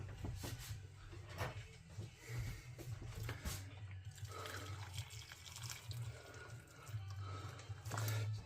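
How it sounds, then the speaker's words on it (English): Hot water pours from a kettle into a bowl of jelly cubes, a faint ongoing splash and trickle with light clinks, quiet throughout. "I'm just going to pour half a pint of hot water into this"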